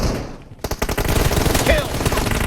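Rapid gunfire in the video game PUBG, a dense stuttering burst of automatic shots starting after a short pause and continuing loud to the end, with a brief faint voice mixed in.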